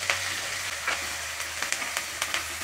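Masala paste and curry leaves frying in hot oil for a spicy potato curry, a steady sizzle with a few sharp crackles and spatters popping through, close and moderately loud.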